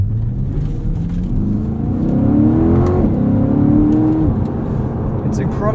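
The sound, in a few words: car accelerating on a wet road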